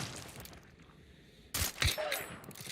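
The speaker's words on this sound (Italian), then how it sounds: "Senti gli spari?" Gunfire breaks out in a zombie-themed co-op hunting game: after a quiet, dim ambience, a sudden cluster of loud, sharp shots and cracks erupts and repeats over about a second, fairly close.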